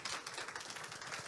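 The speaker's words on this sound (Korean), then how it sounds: "여러분 다시 한번 큰 박수로 맞이해 주십시오" A large audience applauding in a university auditorium during a talk show, a dense continuous wash of clapping heard at a distance and fairly faint.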